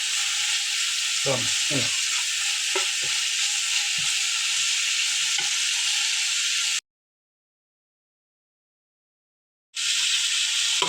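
Grated coconut roasting in a pan for a Kerala fish head curry, a steady loud sizzle and hiss with occasional stirring scrapes, a brief silent gap, then sizzling again.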